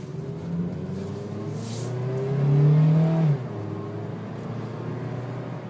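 A 2012 Honda Civic with an automatic transmission accelerating on a test drive, its engine note rising steadily from inside the cabin, swelling to a louder peak before easing back to a steady cruising hum.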